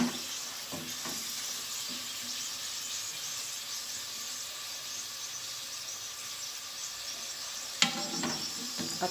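Mooli (radish) stuffed paratha cooks on a hot pan with a steady, even sizzle and hiss throughout, and a brief louder crackle near the end, with no talking.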